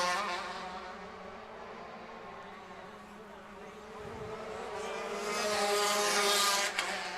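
125 Modified race karts at the 2013 Lone Star Grand Prix make a high, buzzing engine drone. It swells louder as the karts race past and then drops away.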